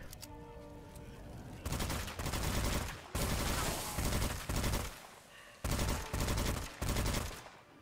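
Rapid, sustained bursts of automatic gunfire from an infinite-ammo gun in the Witchfire video game, five loud, dense volleys separated by brief pauses.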